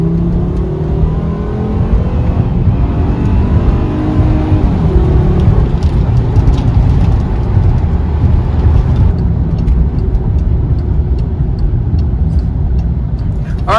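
A car engine revs loudly during a burnout attempt with a continuous rushing roar and tire noise, sustained throughout like a skid on pavement, close to the microphone.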